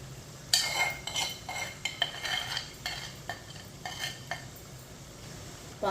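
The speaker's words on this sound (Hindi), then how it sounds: "एक बार ना चम्मच के साथ मिक्स कर लेंगे" A spoon stirs ground spinach in a pan, giving a series of soft scraping and clinking strokes at an uneven rhythm, close and fairly quiet over a low steady background hum.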